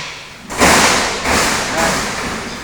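A heavy wooden bang as a window slams shut during a typhoon, then a couple of softer knocks and rattles following close, loud and near.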